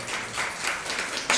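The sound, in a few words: congregation applauding in church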